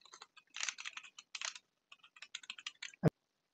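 Rapid keystrokes on a computer keyboard while entering Python code, quiet and close, in irregular bursts of clicks with short pauses and one sharper final tap.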